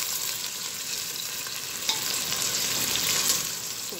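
Rice frying in a pan as pepper is stirred in, a continuous close sizzle with scraping stir strokes throughout.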